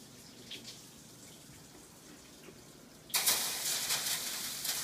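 Tap water gushes into a Le Creuset pot in a kitchen, starting abruptly after a few seconds of quiet room tone and running steadily and loudly to the end.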